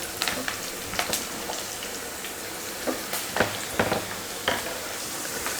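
Shredded cabbage stir-fried in a pan with onion, green chili and curry leaves: a steady close sizzle with scattered scraping and tossing clatters from the spatula, no voices.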